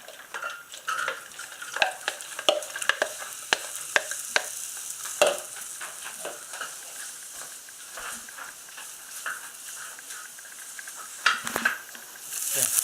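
Onion cooks in a pot for a chowder, a soft sizzle under frequent rhythmic scraping and tapping of a spoon stirring against the pot, with a clatter toward the end.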